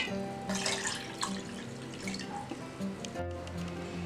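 Water poured into a mixer grinder jar while making panipuri filling of mint, coriander, green chilli and ginger, a steady splashing flow close by, running on for several seconds with slight swells.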